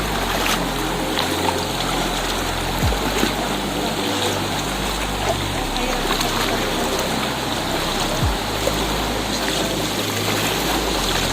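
Rushing water of a strong waterfall, Arapay Falls in San Jose, Occidental Mindoro, pours and splashes continuously, a dense, steady roar close by with no breaks.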